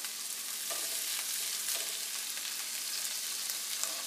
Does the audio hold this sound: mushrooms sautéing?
yes